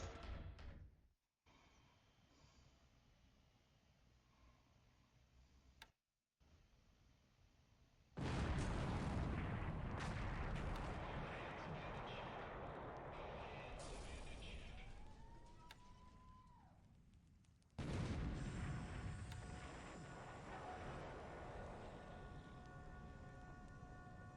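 Naval bombardment gunfire in the War in the Pacific: Admiral Edition war game, heard as loud, sustained rumbling blasts that start abruptly, rage for several seconds, ease off, then surge again.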